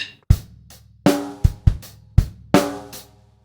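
A drum kit plays a one-bar groove from a Grade 3 lesson piece, with punchy kick and snare hits and ringing cymbal wash in an uneven, steady pattern, close and clear with no talking.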